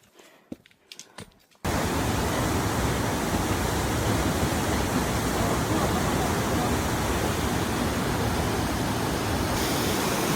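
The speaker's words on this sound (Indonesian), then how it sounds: "air terjun di sini tuh nggak habis-habis tahu" A roaring waterfall on a trail up South Korea's highest mountain, a loud, steady broadband rush of falling water that cuts in suddenly after a few seconds of quiet handling noise and then holds unbroken.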